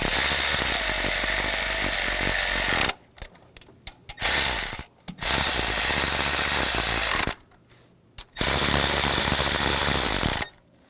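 A ratchet snugs down valve cover bolts on a 2014–2018 GMC Sierra 1500 5.3L V8, heard as loud, close mechanical whirring bursts lasting a few seconds each, separated by short silences.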